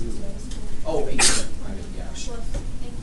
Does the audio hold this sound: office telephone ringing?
no